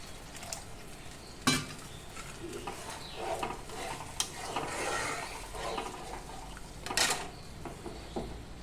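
Chhana kofta curry frying in a pan as water is poured in, with a soft continuous sizzle, clattering stirring strokes and a few sharp utensil knocks against the pot.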